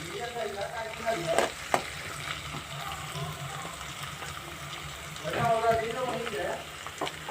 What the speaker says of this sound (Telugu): బాగా ఫ్రై అవుతున్నాయి